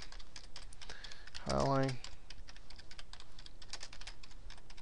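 Quick, light clicks of typing on a computer keyboard patter steadily throughout, with a voice briefly speaking over them.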